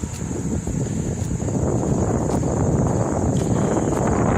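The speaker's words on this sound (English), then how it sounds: "Wind just picked up." Wind gusts buffet the microphone outdoors on an overcast, warm walk, a steady loud rushing roar that builds slightly over a few seconds, with faint high whine beneath and no speech.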